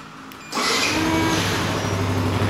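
A Yamaha R15 motorcycle engine fires up by remote alarm after a brief quiet pause, then settles into a steady, close idle that runs to the end.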